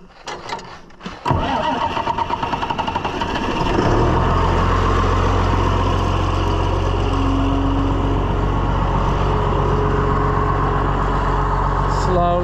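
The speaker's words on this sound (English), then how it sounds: "Why am I turning this by hand when we got a 100 horsepower power unit hooked up to it? Let's run it." A 100 horsepower power unit hooked to a John Deere 24T baler cranks briefly, catches and settles into a loud, steady running drone close by with a faint rhythmic knock.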